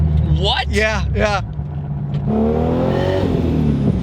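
A 2JZ-swapped Lexus IS300 engine revs hard, drops briefly during a gear change, then pulls again with a loud, close interior drone while people speak over it.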